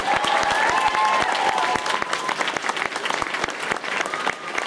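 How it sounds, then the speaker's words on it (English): Audience applause at an anime convention cosplay event, a dense steady wash of many hands clapping that stays loud throughout and eases only slightly toward the end. "a big round of applause for everyone that's taken part"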